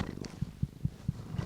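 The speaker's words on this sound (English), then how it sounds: "he does purr a little bit" Gray and white tabby cat named Hank, an emotional support animal, purring softly and close by, a steady low rumble with regular pulses about every quarter second.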